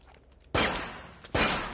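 Two loud gunshot blasts in the inFAMOUS Second Son video game, the first sharp report followed by a decaying tail and a second shot about a second later, close and alone after a quieter stretch.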